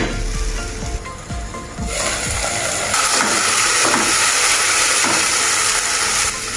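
Ajwain and garlic sauté in a hot pan, giving a loud, steady sizzle with scraping stir strokes early on, close and continuous, with no talking.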